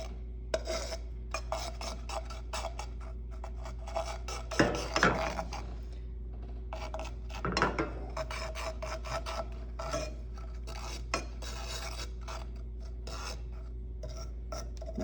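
Melted dalgona sugar being stirred and scraped in a pan over low heat, rasping and scratching strokes with a few louder scrapes at intervals over a constant low hum, close and without voices.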